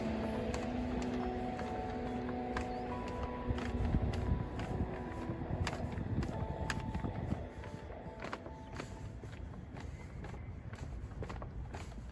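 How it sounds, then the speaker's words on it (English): A carried bag taps against a walker's leg in soft, regular clicks as they cross a pedestrian bridge over Tokyo rail tracks, heard over a steady background rumble of trains and the city. "So that tapping noise you hear is a bag hitting my leg."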